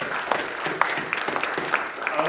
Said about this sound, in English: let's give these 8 fine young people a round of applause